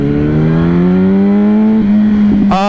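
A 2008 Yamaha R1 1000cc motorcycle, an older bike without traction control or ABS, pulls hard under acceleration, its engine tone climbing steadily and loud up close before a quick shift and a sharp rising rev at the end.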